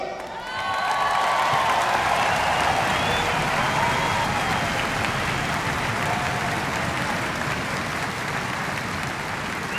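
An audience at a Catholic sermon breaks into steady, dense applause that swells in after a moment and holds at a moderate level, with a faint murmur of voices underneath.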